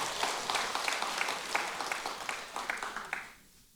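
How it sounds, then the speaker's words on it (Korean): An audience at a Buddhist temple dharma talk claps together in a dense, steady burst of applause that holds for about three seconds, then drops off sharply. "박수."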